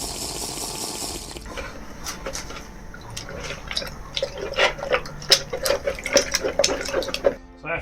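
Water is added to glue while building a linen linothorax: faint trickling and scattered small drips and splashes, growing busier toward the end.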